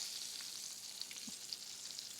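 Chicken meatballs frying in a pan, a faint, steady sizzle with a few soft clicks and taps as they are turned over.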